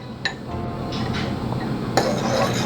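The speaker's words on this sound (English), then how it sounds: "And then mix it really well." Dosa batter with salt and black pepper being mixed in a metal bowl, a few sharp clinks of a utensil against the rim over a soft, steady scraping.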